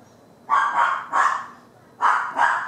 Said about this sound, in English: Dog was barking there.